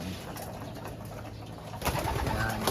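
Pigeons coo in a steady low murmur, close and continuous, with a busier burst of cooing and rustling toward the end.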